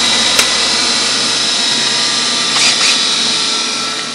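A power tool grinds at a steel bolt, a steady, loud broadband whine running the whole time with brief sharper bursts as the disc bites, in a workshop while a 1940 Farmall H tractor is being repaired.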